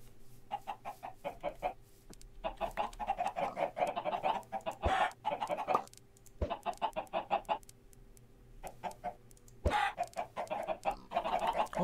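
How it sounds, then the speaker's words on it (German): Repeated clucking bursts from a chicken in the PC game Minecraft, coming in short rhythmic clusters with brief pauses, fairly quiet, along with a few sharp clicks. "Oh, haben wir einen Huhn rausgekriegt."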